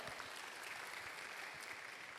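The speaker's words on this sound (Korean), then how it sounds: "다시 한번 축복의 박수로 함께 하겠습니다" Faint, steady applause from a church congregation during a Sunday youth service, distant and continuous without a break.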